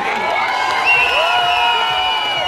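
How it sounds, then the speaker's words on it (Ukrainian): Outdoor crowd at a Ukrainian village celebration and disco cheers and whoops in a loud, sustained wash of voices, with scattered shouts rising above the din. "І зараз потрібні будуть ваші дуже дуже гучні оплески."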